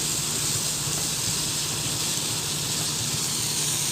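Chicken fajita stuffing with ketchup cooking in a pan gives off a loud, steady sizzle and hiss that holds evenly for the whole stretch, with no voices over it.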